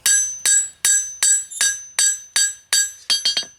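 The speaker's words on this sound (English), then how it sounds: "now I'm just kind of planishing to get those hammer marks out" Hammer planishing a metal spoon to smooth out hammer marks, a run of about a dozen bright ringing metallic strikes in a fairly even rhythm, each decaying briefly before the next, with a quick cluster of blows at the end.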